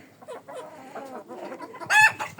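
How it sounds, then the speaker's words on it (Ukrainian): Minorca chickens in a backyard coop, a rooster with four hens, clucking softly in low murmurs before a louder, sharper call near the end, close by and alone. "а тут у мене мінорка"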